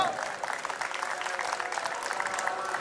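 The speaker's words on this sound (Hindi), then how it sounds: "जोरदार तालियां" Loud, sustained applause from a wedding sangeet audience, dense clapping filling the whole stretch with a busy crowd texture beneath.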